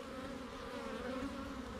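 A mass of honeybees crowds a hive frame, their buzzing forming a continuous, moderately faint drone with a slight wavering pitch and no talk over it.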